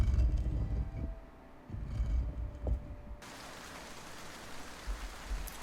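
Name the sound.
rain falling in the Morroblivion (Elder Scrolls) video game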